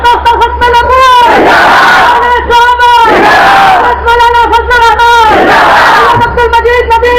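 A large crowd bellows slogans in unison at a religious gathering, loud repeated rhythmic chant bursts of massed voices, close and overwhelming, with brief gaps between shouts.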